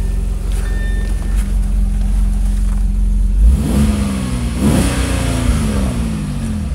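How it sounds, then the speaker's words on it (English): An Audi B7 RS4 with a swapped 2.7-litre biturbo V6 on the stock RS4 exhaust and test pipes idles with a steady drone, then revs up sharply twice in quick succession, close and loud. "This car actually sounds pretty good with the RS4 stock exhaust."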